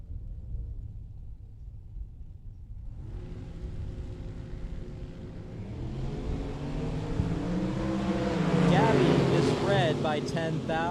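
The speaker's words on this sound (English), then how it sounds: "Right side in the C7 Corvette Roadster, cool hand Luke Bogacki." A C7 Corvette Roadster launches at a bracket drag race in Las Vegas, its engine rumbling and then rising to a loud, building roar as it pulls down the strip, with an announcer talking over it throughout.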